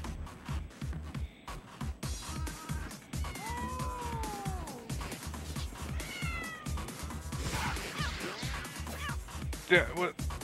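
Cat meows from the video game Tokyo Jungle, several rising and falling calls scattered through continuous game music and effects, with a siren-like wail near the end.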